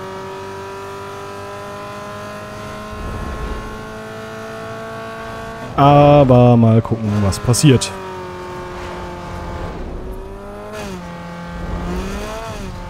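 A Mazda MX-5 racing in Need for Speed Underground 2 holds a steady engine drone, then revs hard in a loud burst with quick gear-shift sweeps before settling back to a cruising hum. Someone speaks briefly over the engine.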